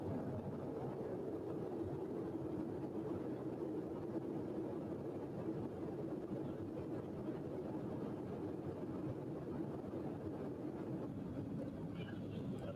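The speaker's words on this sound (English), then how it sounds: "Enjoy the sheer brute power of Concorde." A Concorde jet in 1995 takes off at full power, a steady, muffled, low broadband roar that holds unbroken and evenly loud throughout, as if heard from the cabin.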